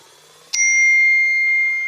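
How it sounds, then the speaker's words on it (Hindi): iPhone WhatsApp notification alert, a single clear, loud bell-like ding with a sharp onset and a long, smooth ringing decay, heard alone without voices. "आईफोन के व्हाट्सएप के नोटिफिकेशन दिखा देता हूँ मैं आपको।"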